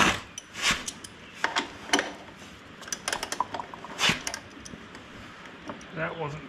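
Cover being removed from a cheap auction Wacker plate compactor: scattered clicks, scrapes and metallic knocks in an irregular sequence, close by, with a few brief rattles toward the end.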